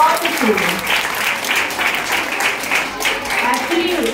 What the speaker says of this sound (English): A big round of applause for all the students.